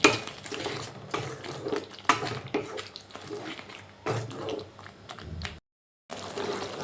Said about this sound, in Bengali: আবারও সব কিছু ভালোভাবে কষিয়ে নেবো